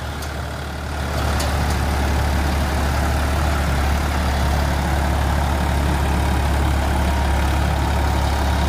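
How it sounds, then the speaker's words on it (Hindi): A John Deere 5405 tractor runs steadily while pulling a Landforce eight-foot super seeder in a field: a constant, loud low engine drone after a brief quieter start, close by, with no talking. "धुआं वगैरह नहीं है कुछ भी ट्रैक्टर में, आराम से चल रहा है।"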